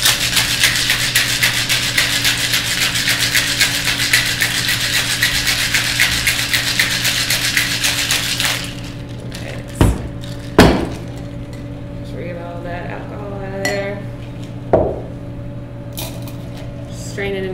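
A cocktail of lemon juice and Angostura bitters is shaken hard with ice in a shaker, a loud, dense, steady rattle for about eight seconds, followed by a few sharp knocks and clinks of the shaker and glass.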